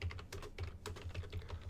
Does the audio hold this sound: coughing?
no